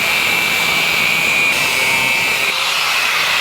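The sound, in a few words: angle grinder cutting off Nissan Titan tie rod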